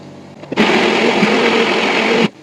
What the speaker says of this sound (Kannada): ಗ್ಯಾಪಲ್ಲಿ ಮಿಕ್ಸಿಗೆ ಹಾಕೊಂಡ್ಬಿಡ್ತೀನಿ